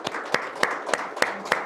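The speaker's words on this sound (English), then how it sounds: "Can we give a big round of applause?" An audience at an alumni award presentation claps for the recipient, a lively patter of many hands punctuated by strong, evenly spaced claps landing about three times a second, close and bright.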